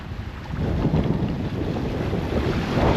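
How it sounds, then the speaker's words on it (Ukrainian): Strong wind by a lake in Dromod, Ireland, buffets the microphone with a deep, rumbling roar that swells and holds steady, with no voices. "Дивіться, який вітер дує, офігеть"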